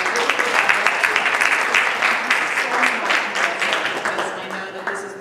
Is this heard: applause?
yes